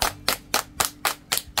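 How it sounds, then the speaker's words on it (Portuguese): Several sharp, loud hand claps in a steady rhythm, about seven in under two seconds, close and clear with no talking. "Receba as nossas palmas, Zélia!"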